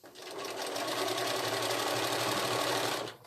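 A sewing machine fitted with a walking foot runs in one continuous, even burst of rapid stitching for about three seconds, close and steady, starting and stopping cleanly with no talking.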